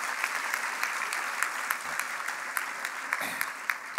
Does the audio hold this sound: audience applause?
yes